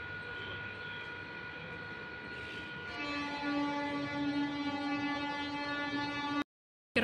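A Chennai Egmore to Pondicherry MEMU train gives off a steady, sustained horn-like tone with layered harmonics that swells a little partway through, then cuts off sharply just before the end.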